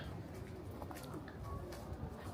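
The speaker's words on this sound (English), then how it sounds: "Here, pigeons." Pigeons coo softly in a busy outdoor spot in Hastings, their low calls faint beneath steady background bustle and murmuring voices.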